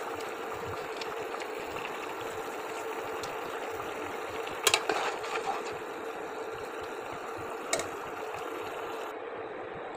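Shing fish sizzling in a pan for a fish curry with taro, a soft, steady hiss with a bubbling texture, fairly quiet throughout and broken by a couple of brief clicks near the middle.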